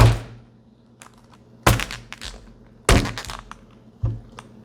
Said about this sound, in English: You've really been into smashing things on this table lately.